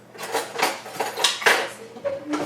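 A knife cuts freshly baked rosemary biscuits on a plate, giving a series of close scraping and clinking strokes of cutlery against the dish.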